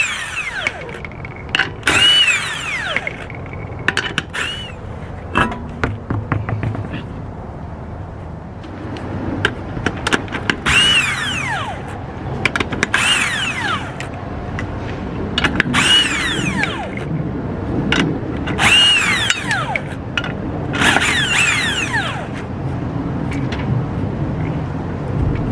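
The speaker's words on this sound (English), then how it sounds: "So next you want to go ahead and take these lug nuts off" Power tool spinning off the lug nuts on a 1992–2001 Toyota Camry wheel: several short, loud ratcheting impact bursts separated by pauses, with clinks of metal and workshop handling noise between them.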